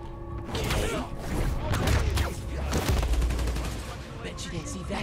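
Gunfire in Spider-Man: Miles Morales, rapid bursts of shots with metallic clanks and low booms layered over game sounds and voices, fairly loud and nearby throughout.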